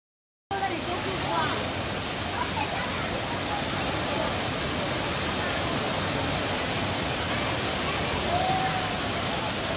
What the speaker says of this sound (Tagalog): diri jud ang bagsak sa mga tubig